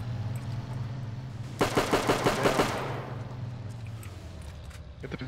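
Gunfire in Arma 3 with the Iron Front 1944 mod, one rapid burst of about eight automatic shots in a quick even rhythm, fairly close, then quiet background hum and a faint click near the end.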